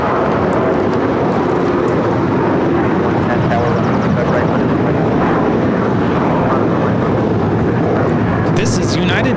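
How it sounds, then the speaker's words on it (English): A United Airlines Boeing 737-900ER takes off from LAX bound for San Francisco, a loud continuous jet roar filling the scene with buffeting wind noise and voices talking over it. "This is United Airlines 1791 taking off to San Francisco on the 737-900ER."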